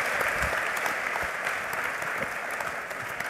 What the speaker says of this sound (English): The claps, please.